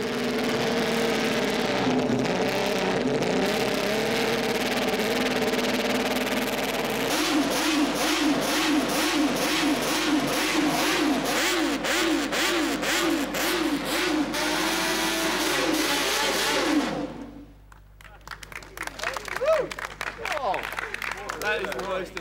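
Historic 1960s Honda six-cylinder racing motorcycle engine, nearby and loud, blipped and revved repeatedly so the pitch rises and falls in rapid waves before the note drops away abruptly, then a few short bursts.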